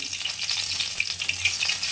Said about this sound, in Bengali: মাছগুলো সাইডে করে দিয়ে দিলাম কালো জিরা ফোড়ন।